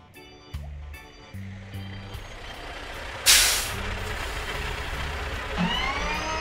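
A toy playset bus pulls in with a loud hiss of air brakes and a string of steady reversing beeps. A voice speaks softly underneath, and there is a brief high squeal near the end.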